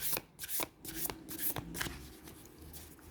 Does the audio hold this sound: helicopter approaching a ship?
no